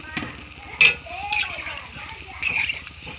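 Water is poured into a pan of frying fish, setting off sharp sizzling bursts that flare and fade three times over a low steady crackle, with a few soft utensil clinks in between.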